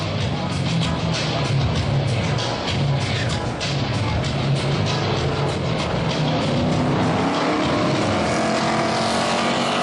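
Dirt track race cars roar off the start of an eight-car heat race at Big O Speedway, a loud, dense wall of engine noise with revving that rises and holds throughout.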